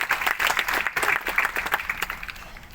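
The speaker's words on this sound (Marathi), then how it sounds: "आता परत एकदा यांच्याकरता टाळ्या वाजवल्या" An audience applauds steadily with dense, continuous clapping for a few seconds, fairly loud and close, with a faint murmur of voices underneath.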